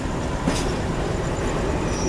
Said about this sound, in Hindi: चलिए दोस्तों यहाँ पर अराइवल होता हो अपना CSMT रेलवे स्टेशन पे